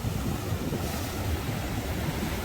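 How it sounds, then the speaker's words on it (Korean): Sea waves crash and roar at a harbour on the Yangyang coast in cold weather, a dense, steady wash of surf with heavy wind noise on the microphone, loud and continuous. "자 파도가 좀 많이 치고 있고요"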